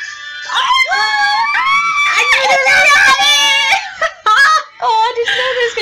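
A puppy whines and yips in drawn-out, high-pitched, wavering cries close by, with brief breaks between them.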